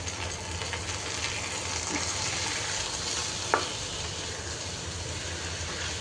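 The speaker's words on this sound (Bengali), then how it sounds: "এখন আমি কিছুক্ষণ কষিয়ে নিব, মানে ভেজে নিব" Broken rice and potatoes frying in oil with bay leaf after reddened onion, a steady sizzle with stirring scrapes and one sharp clink, no voices.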